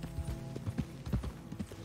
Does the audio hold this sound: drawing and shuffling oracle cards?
no